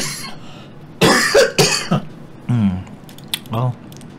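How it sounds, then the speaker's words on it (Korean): A man coughs repeatedly in a burst of several loud, close hacks, then clears his throat with rough, voiced sounds as the fit trails off. "이걸 찍을 때마다 이렇게 기침이 나냐."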